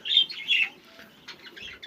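Bright chirps and tweets from small birds in an aviary come in short bursts, with faint fluttering between them, close by and fairly loud.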